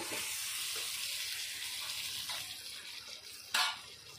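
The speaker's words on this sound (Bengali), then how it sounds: "মশলাটা ভালো করে কষিয়ে নিয়েছি, এখন দিয়ে দেবো ভেজে রাখা আলু আর ডিমগুলো।" Fried potatoes and eggs drop into a sizzling turmeric spice masala in a Bengali egg curry pan, giving a steady close frying hiss with a brief louder burst of sizzle near the end.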